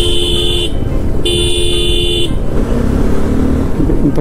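A car horn on a winding forest road sounds in two long, loud, steady blasts, the second following a short gap, over the low rumble of the engine.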